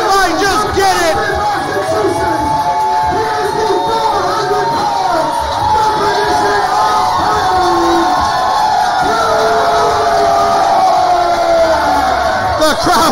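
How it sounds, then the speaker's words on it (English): Crowd at a live wrestling show cheers, whoops and shouts continuously, loud and dense, with many voices yelling over one another and a few higher pitched shouts rising out of the roar. "The crowd going wild for the man that went off the Ocean Beach Pier just yesterday"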